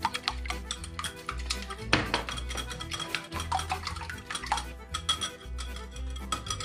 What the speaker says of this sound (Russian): яйца вот так взбиваем